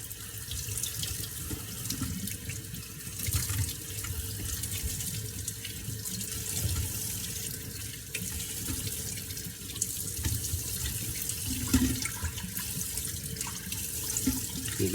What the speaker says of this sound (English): Just rinsing with water.